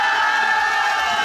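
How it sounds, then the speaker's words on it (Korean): A crowd at an outdoor folk comedy performance at a regional cultural festival roars in a steady, sustained cheer, with high voices blending into one continuous wash. "자, 그러면 함성 소리."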